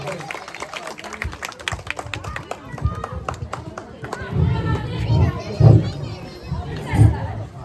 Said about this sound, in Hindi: सब लोग तालियां बजाकर हौसला बढ़ाएं